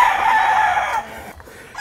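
A rooster crows loudly and close, one drawn-out cock-a-doodle-doo that fades out after about a second.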